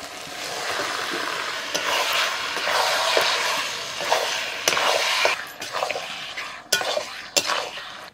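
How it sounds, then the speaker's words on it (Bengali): Mutton marinated in spices drops into a pan of cooked-down masala, then frying sizzle with metal utensil scrapes and clinks against the pan, sharp knocks punctuating the stirring, close and fairly loud, no talking. "মটন দিয়ে দিচ্ছি।"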